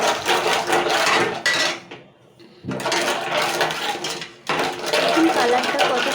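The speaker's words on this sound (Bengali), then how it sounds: "এবার আমি নাড়তে থাকবো।" A spoon stirs milk in a cooking pot, scraping and clinking steadily against the metal with one brief pause, while a person talks over it.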